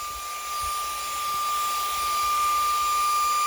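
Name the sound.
Xiaomi car vacuum cleaner running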